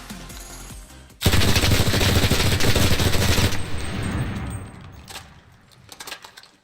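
An M1A1 Thompson submachine gun fires a long, loud, sustained automatic burst in a World War II video game, followed by a fading echo and a few faint mechanical clinks.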